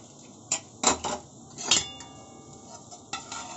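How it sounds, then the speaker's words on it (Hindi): A pressure cooker of cooked rajma is opened in a home kitchen, with a few sharp metallic clanks and knocks of the lid and pot, fairly close and otherwise quiet. "इतनी देर हम कुकर खोल लेते हैं।"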